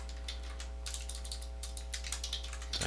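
Quick bursts of keystrokes clatter on a computer keyboard, close and fairly quiet, over a steady low electrical hum.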